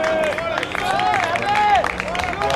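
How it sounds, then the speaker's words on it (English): Spectators at a T20 cricket semifinal clap and cheer around the ground, a brief burst of applause and crowd murmur with a commentator talking over it and a rising, wavering tone running through. "Well-deserved round of applause coming from that spectators."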